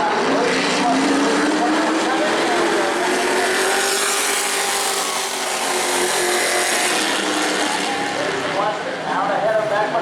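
Pro trucks racing around a track after a restart at New Smyrna, a loud continuous engine roar with a rising and falling pitch as trucks pass, dense and steady throughout, no speech heard over it.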